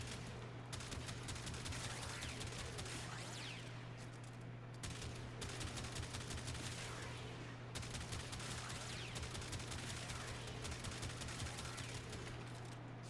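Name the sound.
Tiberon Prime rifle firing in semi mode, Warframe video game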